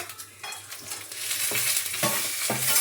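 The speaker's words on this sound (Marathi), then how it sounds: "1 चमचाभर आपलं कांदा लसूण मसाला आणि 1 चमचाभर काश्मीरी पावडर. कारण तेल गरम आहेत ना पटकन हे टाकून देते सगळं एकत्र." Onion-garlic masala and Kashmiri chilli powder hit hot oil in a pan, a bright continuous sizzle with scraping stirs and a few soft clanks of the spoon, close and fairly loud.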